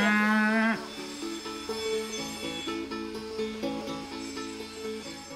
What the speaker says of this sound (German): Hinterwälder sind eine robuste, aber sehr kleine Rinderrasse und vom Aussterben bedroht.